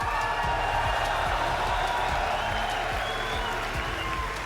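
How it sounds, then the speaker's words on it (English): A big crowd at a Six Invitational Rainbow Six esports match roars and applauds in a dense, continuous wash of clapping and cheering that fills the arena, with a voice faintly underneath. "I think the main difference is this amazing fucking crowd."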